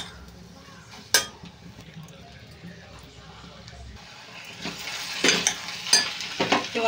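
Sliced onions sizzle as they brown in a pan for an eggplant, prawn and egg curry. A steady frying hiss continues while a metal spoon stirs and clinks against the pan several times, growing busier toward the end.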